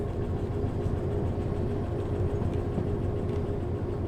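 A twelve-car freight train in the Derail Valley railway game rolls along with a steady low rumble and faint rhythmic clatter, continuous and fairly loud with no talking.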